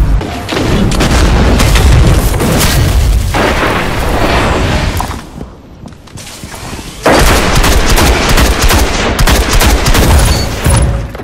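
Loud, sustained volleys of gunfire and heavy booms from a Destiny Iron Banner match, the Golden Gun among them, roar almost without pause, dropping briefly to a quieter gap before the barrage resumes.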